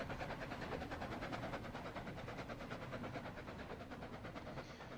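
Faint, steady rhythmic clatter of a train pulling into a passenger terminal in the video game Transport Fever 2, a continuous rolling rail sound with repeated wheel beats throughout.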